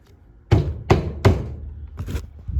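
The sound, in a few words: banging a screw head into wood to make a starter hole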